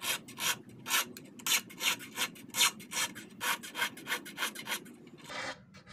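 Hand file working a small fishing hook for eels, a steady rhythmic rasping of about a dozen even back-and-forth strokes, close and clear with no talking.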